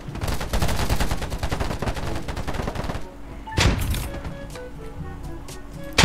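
Rapid automatic gunfire in a video game, a dense loud burst of shots for about three seconds, then a single heavy blast and a few scattered shots with game sounds.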